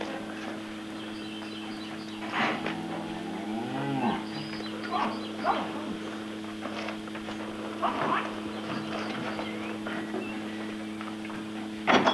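Cows moo several times over a steady mechanical hum, the deep calls rising and falling, some close and some farther off.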